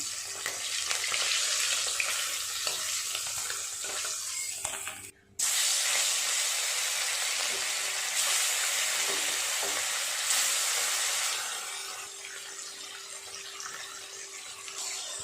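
Bhetki fish pieces fry in hot oil with a loud, continuous sizzle and hiss that runs throughout, with a brief cut and small changes in intensity, no talking.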